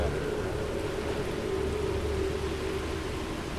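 Steady rain falls in Starfield, a constant broadband hiss with a low rumble underneath, even and unbroken throughout with no voices.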